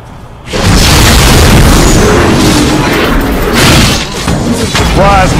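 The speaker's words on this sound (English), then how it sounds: "Your turret has been destroyed." A turret is destroyed in a video game with a loud, sustained explosion: a roaring, rumbling blast that starts after a brief quiet moment and fills the whole stretch.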